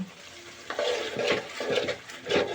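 Chicken pieces coated in masala are stirred in a hot pan, giving soft scraping strokes and a low sizzle in a few uneven passes, close and alone.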